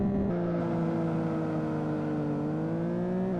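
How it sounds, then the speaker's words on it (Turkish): A steady, droning car engine hums at sustained revs with a slight pitch rise, synthetic game audio from the racing game Live for Speed, with no talking. "Tamam ama arabanın sesi çıkıyor."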